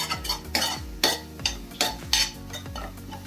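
A spatula stirring and scraping in a pan of frying tomato, onion and egg for an egg idiyappam, with regular metallic strikes about every half second over a faint sizzle and no talking.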